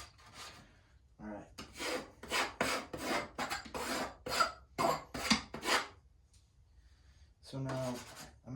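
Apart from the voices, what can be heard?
scraping paint on canvas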